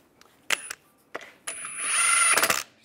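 Power tool running lug bolts tight on a VW Beetle wheel, a few short bursts of high whirring followed by one longer run that bogs and rattles as the bolt seats.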